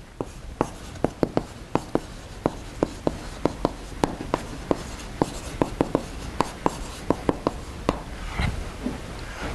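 Chalk or marker taps and strokes on a board as equations for an electrostatics lecture are written out, a steady run of sharp, close clicks spaced through the whole stretch with no voices.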